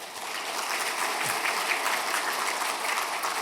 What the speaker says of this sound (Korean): 함께 환영의 박수 부르고 제가 기도하겠습니다